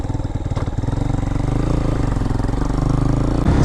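A 2023 Hawk-X 250 motorcycle engine idles with a lean carburetor, putting out a close, steady, loud putter of rapid regular pulses that holds even throughout.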